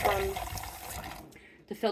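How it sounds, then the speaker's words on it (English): Water running through a dryer filter screen in a back mudroom during cleaning with dish soap, a steady close splashing flow that breaks off partway, followed by a person speaking. "I want to show you the water flow"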